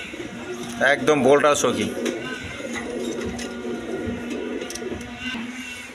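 A pair of pigeons coos amid a seller's stock of birds, soft throaty calls rising and falling while someone talks steadily over them close by.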